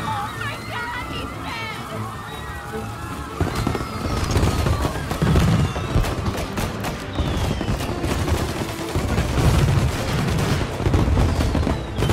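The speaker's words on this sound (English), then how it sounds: "And now for the fireworks" Rapid crackling bursts of video game fireworks in Mafia: Definitive Edition, with repeated pops and booms, growing denser and louder, with some voices in the background.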